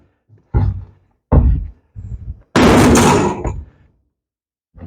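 Several heavy thumps as a block of rendered beeswax is slammed out of its container, loud and close with irregular spacing, the last and longest impact ringing out broadly before a short silence.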